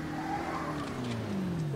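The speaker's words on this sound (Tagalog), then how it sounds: "Ito, ito, ito may kotse." A car drives in a battle royale video game with a steady engine hum and a rising whine. Faint tire noise runs under it, at moderate volume, with no talk.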